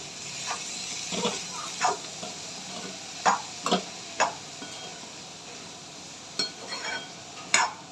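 Ivy gourd and potato stir-fry being mixed in a pan, with scattered close scrapes and taps of a spoon against the pan over a low steady sizzle, irregular and fairly soft, no talk.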